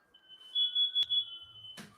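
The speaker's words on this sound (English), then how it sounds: "I guess the smoke alarm's going off or something" A smoke alarm goes off indoors with a steady, piercing high beep, followed by a short burst of noise at the end.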